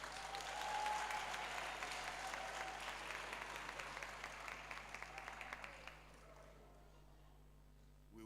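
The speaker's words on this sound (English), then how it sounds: "Let's cheer them up again." Audience applause at a memorial lecture fills the hall, loud and sustained for about six seconds, then fading into scattered clapping and a quieter room.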